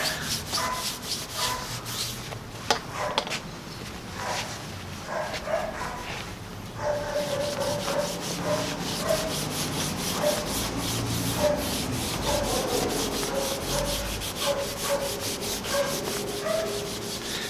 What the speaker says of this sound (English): So you're gonna buff it with just a piece of cloth and you can immediately see the shine.